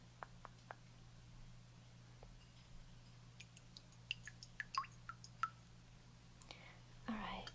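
A shaving brush being wetted with water in a barber shop setting, heard as soft close drips and small wet squishes scattered sparsely, with faint whispering and a low steady hum beneath.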